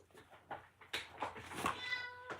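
A house cat meows indoors during a card-stamping craft session, with a few short, fairly close calls that rise into one longer, clearer meow near the end, set against light background noise.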